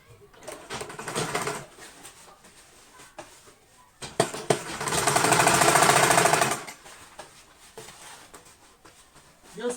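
A sewing machine top stitching a raincoat runs in a loud sustained burst in the middle, with shorter stop-start runs and handling clatter before and after.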